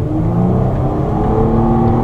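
A Nissan Altima 3.5 SL with its V6 and CVT automatic in sport mode accelerates hard, a steady, loud engine drone rising under full throttle from inside the cabin, with no talk over it.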